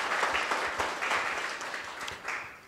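An audience gives a short burst of applause at a gospel music gathering, many hands clapping in a brisk, bright patter for a few seconds.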